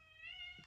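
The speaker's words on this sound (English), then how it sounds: "Cat shouting again." A cat gives a single drawn-out meow, a short tonal cry that is quiet and slightly distant, with nothing else around it.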